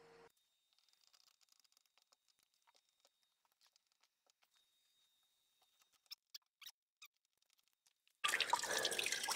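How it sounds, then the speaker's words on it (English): Water draining out of a central heating system during a system flush: scattered quiet drips and patters at first, then a sudden loud, steady rush of flowing water near the end, with no talking. "So the water's now coming out clear."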